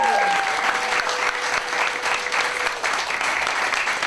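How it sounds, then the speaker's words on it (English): A crowd at a women's festival breaks into a steady round of applause, many hands clapping together in a dense, even wash that holds without pause. "Could I have a round of applause?"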